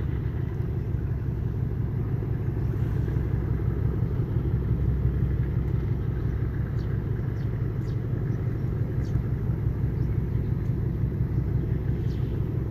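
A ship's engine works near the Manila Bay reclamation site in Pasay, giving a steady, loud low rumble with a throbbing pulse that runs unbroken throughout, with no voices over it.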